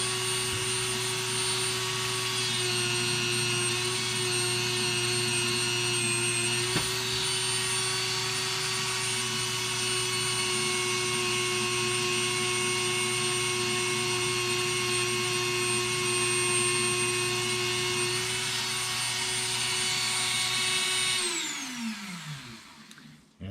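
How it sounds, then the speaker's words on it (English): A Dremel rotary tool spins steadily on guitar frets, a constant high-pitched whine held for about twenty seconds before it winds down and stops, close and alone. "the Dremel moves. I've got it slowed down, but it's spinning so quickly it's going to heat up your frets"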